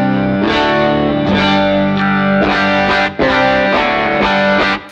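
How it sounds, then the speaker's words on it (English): Electric guitar runs loud through a Helix dual-cab preset with a parametric EQ block and a short 19 ms delay, playing gritty distorted chords that are struck and sustained in a steady rhythm. "So it kind of mixes that polished stock cab sound with the beefiness and the grittiness"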